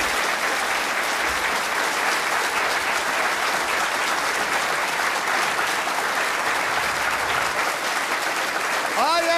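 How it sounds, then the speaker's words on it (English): A 1982 television studio audience applauds a guest, a loud, steady roar of clapping that carries on for about nine seconds, with a voice faintly heard near the end. "Oh, listen to that applause for you, my dear."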